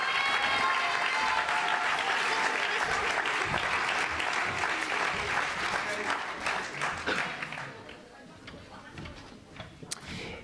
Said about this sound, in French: On les applaudit encore très, très, très, très, très, très fort